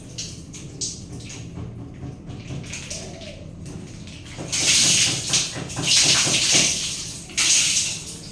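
Water pours and splashes over a body in a home shower at night, starting soft and swelling into loud, hissing gushes in bursts through the second half.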